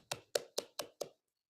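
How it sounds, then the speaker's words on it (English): Five crisp, evenly spaced claps from bare feet slapped together behind the head in a seal yoga pose, close and quiet in a still room, then silence. "I'm clapping my feet behind my head. Clap, clap."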